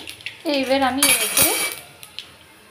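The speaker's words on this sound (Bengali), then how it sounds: "এবার একটু নেড়ে নেব" A spoon scrapes and clinks against a metal kadai while whole five-spice seeds and potatoes are stirred in oil, a few clattering strokes with a brief voice murmuring over it.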